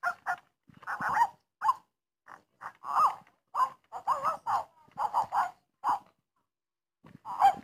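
A dog gives a string of short, close yips and barks mixed with whimpers, irregular bursts separated by brief pauses, with no talking over them.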